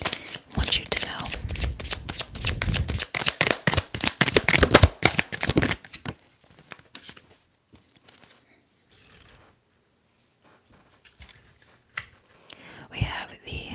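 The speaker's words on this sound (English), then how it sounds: "let's shuffle again" Tarot cards are shuffled in dense, rapid riffling bursts close to the mic for about six seconds, then only sparse soft taps and rustles follow, with quiet whispering underneath.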